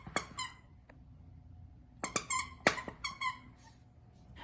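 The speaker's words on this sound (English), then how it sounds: "takes a look for the squeaker and squeaks it nonstop all day long" A dog squeaks the squeaker of a plush SPOT Jumbo Skinneeez squirrel toy: a couple of sharp squeaks near the start, then a rapid cluster of shrill, close squeaks after a short pause, with no talking.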